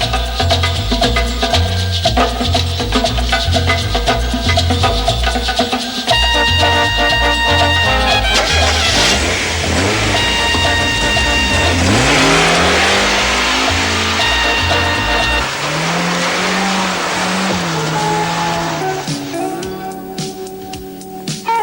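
1991 Mazda MX-5 on the road, a steady engine drone that rises in pitch through a long acceleration, briefly dips and climbs again, mixed with background music and wind noise.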